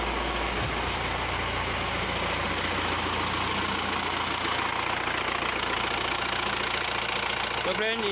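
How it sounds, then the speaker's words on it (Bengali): Engine of a Mahindra Scorpio idling steadily after its catalytic converter was cleaned, a constant, close, even rumble that runs through the whole stretch with no talk over it. "চলো ইঞ্জিনের সাউন্ডটা একবার দেখে আসি।"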